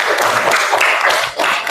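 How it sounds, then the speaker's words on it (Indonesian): Classroom of schoolchildren clapping their hands together, a dense, steady patter of many small hands filling the short moment, fairly loud and close with no talking. "Oke, tepuk tangan dulu ya Nak."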